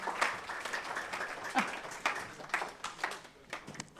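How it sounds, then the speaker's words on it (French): Audience applause for a guest speaker at an indoor talk on bio-inspiration in business, a loose scattered clapping of moderate level lasting several seconds, with an occasional voice audible beneath it. "on peut l'applaudir"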